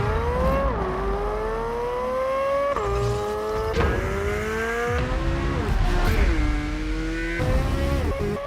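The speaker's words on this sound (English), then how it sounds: "Chevy's put a teaser out there of what the engine sounds like" A high-pitched Corvette Z06 engine revs repeatedly, climbing and dropping in pitch in several loud sweeping bursts.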